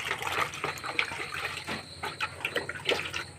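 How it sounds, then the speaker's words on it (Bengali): Plain water is poured into a dish for pigeons, a soft continuous splashing and trickling with small uneven bursts, close by and fairly quiet. "এখন আমি প্লেন জল দেবো"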